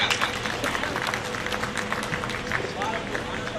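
Crowd applause at a live comic poetry gathering in Aligarh welcoming a poet, loud dense clapping with a noisy murmur of the audience and a voice talking over it.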